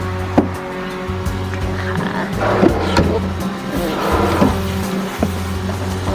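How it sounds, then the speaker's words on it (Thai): Old teak cabinet drawers slide open and shut a few times, giving soft wooden rumbles and thuds over a steady low hum, close and moderately loud. "การใช้งานก็เปิดปิดได้ง่ายนะคะ ทั้ง3ลิ้นชักเลย"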